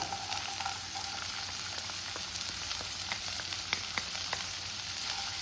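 Finely chopped ingredients and carrot frying in a pan for chicken cutlets, a steady close sizzle with scattered pops and crackles throughout, no voices.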